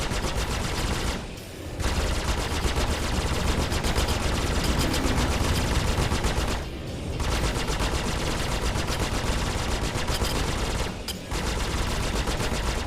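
Weapons on an Aegis Sabre spaceship fire in Star Citizen in long rapid automatic bursts, loud and relentless, broken by three brief pauses between volleys.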